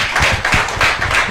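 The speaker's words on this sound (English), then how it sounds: "give the Lord a hand clap of praise this morning again" A church congregation gives a hand clap of praise during a morning service, with a brief, steady wash of many hands clapping at once and no clear rhythm.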